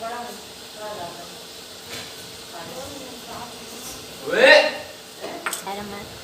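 Gram flour roasting in ghee on a home stove gives a soft, steady sizzling hiss, with a brief louder scrape and clink of a utensil partway through.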